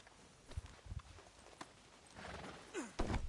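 A few hollow hoof clops on hard ground in Red Dead Redemption 2, then a horse snorts and gives a short whinny near the end, all fairly close.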